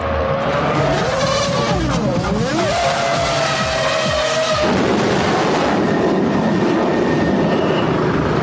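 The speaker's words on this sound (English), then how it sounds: "With engines running and cars screaming by on the track, it's impossible to hear" Formula One cars scream past on the track, loud and close, with high engine whines sweeping down in pitch as they pass. Layered engine roar overlaps throughout and no voices are heard.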